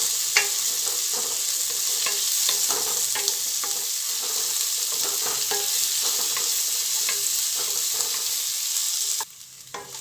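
Three medium sliced onions fry on a full gas flame, giving a steady loud sizzle with scattered crackles and occasional stirring scrapes that runs continuously before dropping away near the end.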